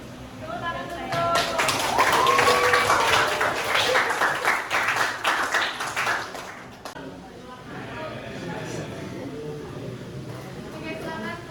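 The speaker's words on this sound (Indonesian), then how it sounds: "Tepuk tangan saya." Applause from a gathered group at a presentation event, a burst of dense hand clapping rising quickly, holding for several seconds, then thinning out into softer scattered claps and murmuring voices.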